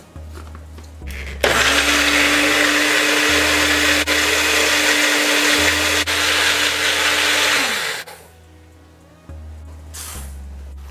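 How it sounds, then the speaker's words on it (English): Blender whirring through garlic, steamed peppers and cook-up rice liquid, starting after a brief hum, running loud and steady for several seconds, then cutting off and restarting briefly near the end. "Now I'll blend up the garlic, the steamed peppers, and the liquid from the cook-up rice."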